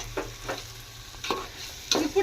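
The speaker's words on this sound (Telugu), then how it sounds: "ఈ మసాలాల్లోనే బాగా ఈ ఆయిల్లోనే ఫ్రై అవ్వాలా ఫ్రెండ్స్. చూడండి ఏ విధంగా ఫ్రై అవుతుందో." Chicken pieces for biryani frying in oil and masala, with a steady sizzle and repeated close scraping stirs of a spoon against the pan at an uneven rhythm, no talking.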